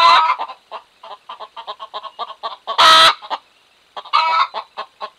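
Backyard chickens clucking close by in a rapid, irregular stream of short calls, with a couple of louder squawks breaking through.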